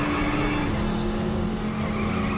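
Race car in The Saboteur video game skidding and rumbling while driving off-road on loose ground, a steady loud engine drone with tire scrubbing throughout, no talk.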